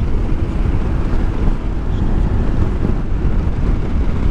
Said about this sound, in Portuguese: aqui está vento